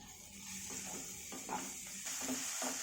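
Ginger, garlic and onion paste with turmeric and a little salt sizzling in a hot pan for a Bengali chitol fish kalia, a steady soft hiss with a few faint stirring scrapes and knocks.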